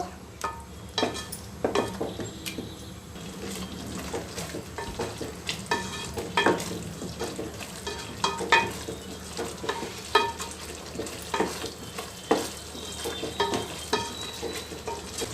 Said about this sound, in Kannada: ಈ ಮಸಾಲೆ ಎಲ್ಲ ಅನ್ನೋ ತನಕ ಇದನ್ನ ಚೆನ್ನಾಗಿ ಕಲಿಸ್ತಾ ಇರಬೇಕು